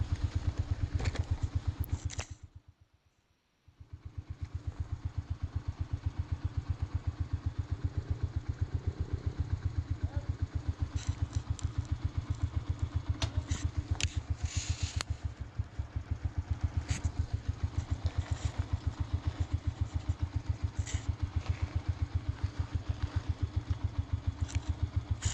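Motorcycle engine labouring up a snowy mountain slope, a steady close throbbing drone with rapid clattering pulses that briefly cut out early on before resuming at an even pitch.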